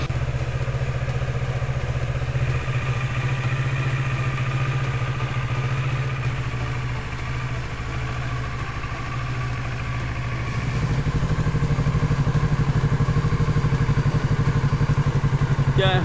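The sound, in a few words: Kawasaki Z650 motorcycle engine idling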